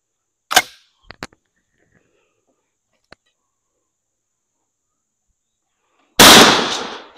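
12 gauge shotgun firing 9 pellet 00 buck at an outdoor range, one sharp loud report at the start and another blast at the end, with a few light clicks and near silence between.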